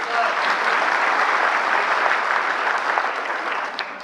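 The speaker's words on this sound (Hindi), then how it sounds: "तो ये तालियां जो हैं" Sustained audience applause at a national workshop on Aadhaar services, a dense steady wash of many hands clapping at full strength for the whole stretch, with no voices standing out.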